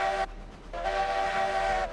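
Train in a railroad video game, rolling along with a steady mechanical hum, a sustained whistle-like horn tone rising in after a brief dip, loud and continuous.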